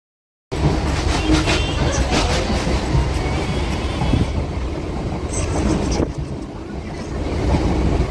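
A Bongaon local train pulls into a station platform at Ranaghat, its loud, steady rumble and clattering wheels rolling on continuously and close by, with windy air around it.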